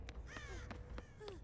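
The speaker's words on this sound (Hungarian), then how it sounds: "Madarak vannak rajtam." Crows caw repeatedly in the game Dead by Daylight, four or five short harsh calls spaced at irregular intervals, fairly faint over a low ambient rumble.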